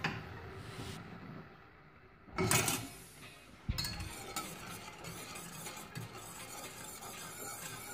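Sugar syrup melting in a pot is stirred, with a spoon scraping and clinking against the sides in repeated strokes, a louder burst of scraping midway, over a soft steady background.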